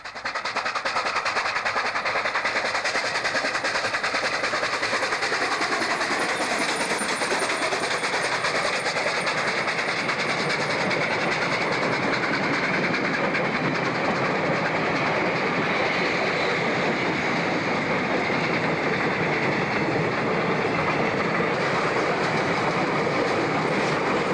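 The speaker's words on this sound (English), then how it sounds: "We'll see JJ rapidly accelerate the heavy train back out onto the main line." A heavy train on the Kimberley–De Aar line in South Africa roars continuously nearby as it accelerates onto the main line, wheels clattering rhythmically on the rails with a steady, building mechanical rumble.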